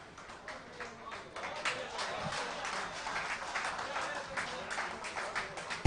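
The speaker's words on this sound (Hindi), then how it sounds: "जोरदार तालियां अंकित सर के लिए" Audience applause for Ankit sir, a history teacher, at a kavi sammelan poetry event: steady, moderate clapping from a crowd that carries on for several seconds with faint voices mixed in.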